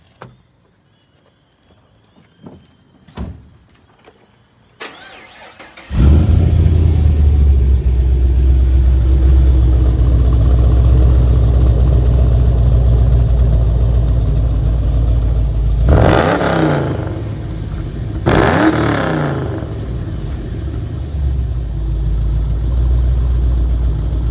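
A car engine fitted with an upgraded camshaft cranks and fires at about six seconds, after a few faint clicks, then settles into a loud, steady idle. Two sharp revs follow near sixteen and eighteen seconds.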